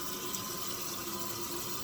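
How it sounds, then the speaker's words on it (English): Water tap running steadily into a sink for hand washing before a nursing medication pass, a constant hiss of flowing water at moderate level with no talk. "I'm going to wash my hands, starting by turning on the water"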